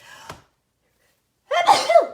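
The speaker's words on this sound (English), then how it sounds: "Oh, I'm going to sneeze and I can feel it." A single loud sneeze bursts out close by after a short intake of breath and a stretch of silence.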